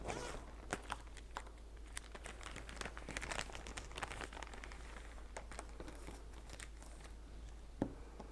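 A Ziploc plastic bag holding germinating red onion seeds is handled, giving soft, close crinkles and rustles in irregular bursts with a sharper crackle near the end, no talking.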